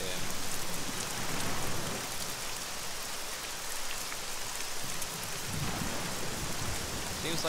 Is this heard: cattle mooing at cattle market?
no